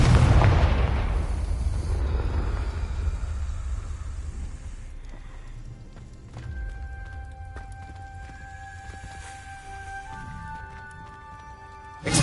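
Confringo blasting spell in Hogwarts Legacy: a loud, booming explosion that rolls out and decays over several seconds, followed by a quieter stretch with a few thin ringing magical tones.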